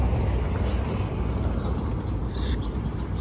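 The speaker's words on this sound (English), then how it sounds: "Sorry about the traffic noise." Road traffic on an old potholed residential road rumbles steadily, a loud continuous low drone of passing cars with brief higher squeaks near the end and no clear speech.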